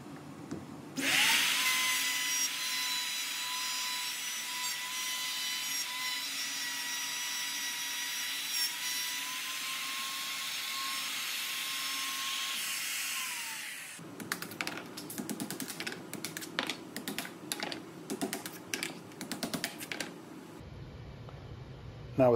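A wood router fitted with a half-inch pattern bit cuts a bow tie inlay, whining loudly and steadily for several seconds before spinning down, followed by a run of scraping, tapping workshop sounds.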